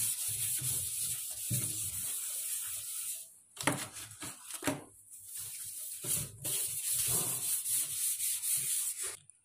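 Sandpaper scrubs a stained steel surface such as a sink, close rasping strokes in long continuous stretches broken by a few short pauses and quicker rubs, with no speech.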